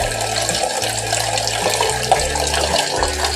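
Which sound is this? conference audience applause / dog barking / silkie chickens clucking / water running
water running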